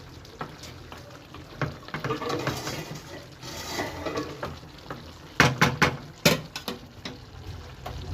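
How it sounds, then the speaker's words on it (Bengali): Ridge gourd and prawns in mustard paste being stirred in a pan, with a soft continuous sizzle under clanking scrapes of a spoon, a few sharper knocks near the end. "একটু উপর নিচে ভালোভাবে নাড়াচাড়া করে দিলাম"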